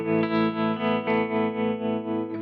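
An MXR or Way Huge guitar effects pedal from Dunlop on its bias setting: a sustained distorted electric guitar chord with a steady pulsing, wavering modulation, loud and close with no talking.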